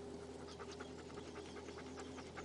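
A dog pants steadily and close by, quick rhythmic breaths continuing without pause over a constant low mechanical hum.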